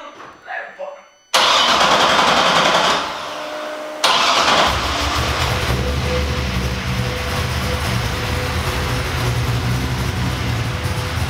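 A Corvette C6 drift car's V8 engine on a dyno cranks and bursts to life with a loud roar, briefly dips, then surges again and holds a steady, rumbling drone close by.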